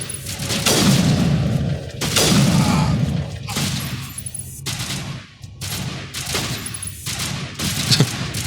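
Loud, sustained gunfire in the Mass Effect game, aimed at a giant pillar, with heavy booming bursts and dense volleys recurring every second or two across the whole stretch.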